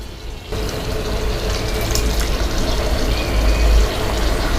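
Cooked moong dal poured into a boiling sambar pot with garlic and pumpkin: after a short quieter start, a loud continuous pouring and bubbling liquid rush follows, rising slightly before easing at the end.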